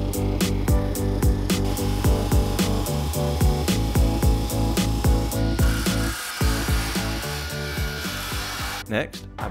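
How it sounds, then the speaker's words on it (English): A 45 degree miter sled cutting walnut edge banding, with steady rasping saw noise running through the whole stretch and a sharp clatter near the end; woodshop setting. "Next, I broke out my 45 degree miter sled to cut the edge banding."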